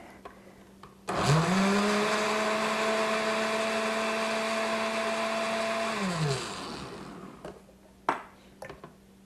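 A kitchen blender grinds canned peaches with iced tea, a loud steady motor whir that starts abruptly, holds for about five seconds, then winds down, followed by a few clunks.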